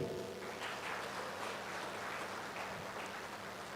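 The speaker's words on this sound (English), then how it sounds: "giving a warm round of applause to Professor John Edward Dormer from Taylor University" An audience at an English language teaching conference gives a faint, distant round of applause, a soft steady patter of many hands clapping evenly throughout without speech, its level low as if heard through a remote link.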